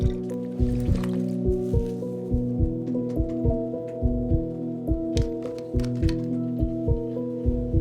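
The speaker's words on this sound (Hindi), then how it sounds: "अरे कितना पानी पियोगे तुम?" Someone gulps down water in quick, regular swallows, about two per second and close by. Sustained background tones play underneath.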